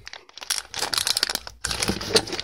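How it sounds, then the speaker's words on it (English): Plastic packaging crinkles and crackles in bursts as it is cut open, close and sharp, with a brief quiet gap midway and then another crisp run of rustling and snipping, and no one talks. "Let me just cut a little hole here."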